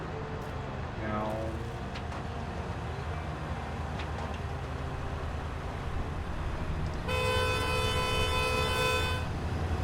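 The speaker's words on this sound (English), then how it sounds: "I love how the NPCs honk at you if you get in their way." Car horns honk from computer-controlled traffic in the Roadcraft video game, a long blaring honk near the end over steady engine and road noise, with fainter tones earlier.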